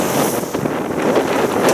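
Strong wind of force 5 to 6 buffets a sailboat motoring into 1.5 to 2 metre waves at sea, a steady loud roar with microphone gusts and water rushing close by throughout.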